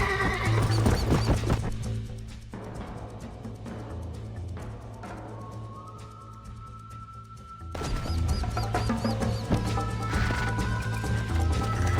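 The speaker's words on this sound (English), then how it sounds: "I think you chose the wrong horse, Miss McFarland." A horse in Red Dead Redemption whinnies loudly over steady galloping hoofbeats and a low rumbling backdrop, with crashes and a brief quieter stretch midway.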